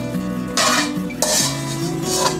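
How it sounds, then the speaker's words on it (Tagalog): A spatula scrapes and clanks against a wok as bean sprouts are lifted out, giving a few distinct metallic scrapes over a steady low hum. "Tinanggal ko po muna itong tauge dito sa kawali"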